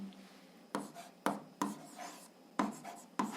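Pen writing on paper while noting an answer for an eighth-grade physics task, five or six brief scratching strokes in an uneven rhythm, close and soft, without speech.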